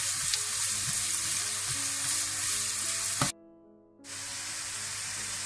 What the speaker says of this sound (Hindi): एक से 2 मिनट के लिए इसको भून लें।